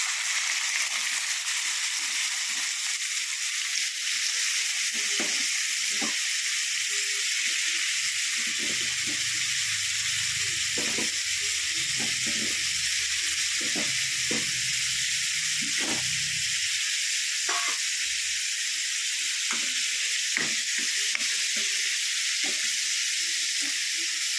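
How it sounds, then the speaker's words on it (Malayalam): Steady hissing sizzle of raw prawns frying in hot oil in a pan, with scattered soft pops and clicks throughout; no talking. "എന്നിട്ടൊരു പാൻ അടുപ്പ് വെച്ച് എണ്ണ ചൂടാക്കി അതിലേക്ക് വറുത്തെടുക്കുക."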